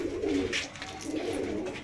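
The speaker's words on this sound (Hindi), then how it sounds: "आज कबूतर खोल दूँ" Pigeons coo close by in a loft, soft low rolling calls overlapping in a short continuous stretch.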